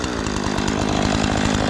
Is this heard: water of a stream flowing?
no